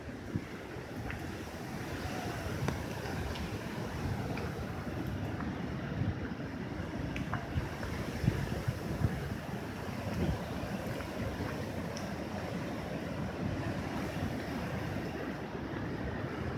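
Big storm waves on the sea and hurricane-force wind at Arkhipo-Osipovka, recorded from Yozhik hill above the shore: a continuous roar of surf and gusting wind, with wind buffeting the microphone.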